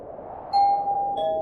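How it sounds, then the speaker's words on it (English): An electronic doorbell in an old, hollow house, sounding as a horror-story effect: a clear two-tone chime, the first tone ringing out and then a second slightly lower tone, over a low background rumble. "The doorbell rang again,"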